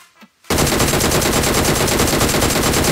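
In BGMI, a DP-28 machine gun opens up after a brief quiet moment with a small thud, then fires one loud, continuous rapid burst of evenly spaced shots right up close.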